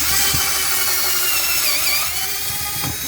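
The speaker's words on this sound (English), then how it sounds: "take your drill, 3/4 bit" A power drill fitted with a 3/4 bit bores into a panel inside a 2019-2020 Jeep JL Wrangler during a heated seat install, its steady close whine running throughout with a couple of brief knocks.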